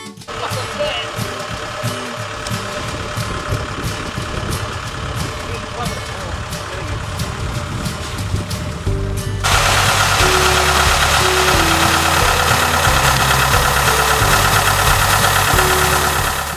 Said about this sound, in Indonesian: Padi yang telah kering dilakukan proses penggilingan ke dalam mesin khusus